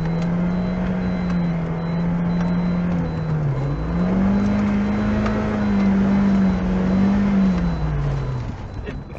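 Lada Niva engine revving hard under throttle at an off-road competition, a loud sustained drone that dips and climbs in pitch over nine seconds, close and continuous.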